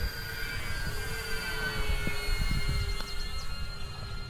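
A radio-controlled 3D aerobatic model airplane flies at a distance, its electric motor giving a steady, thin whine that drifts slightly in pitch over a constant outdoor rumble, with no talking.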